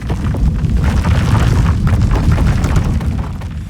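Synthesized earthquake rumble built in Phase Plant, a dense, loud, continuous low roar with crackling, booming texture that holds throughout.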